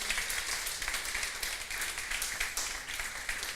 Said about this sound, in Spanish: ¿Por qué no le damos un aplauso al Señor para darle la gloria a Él?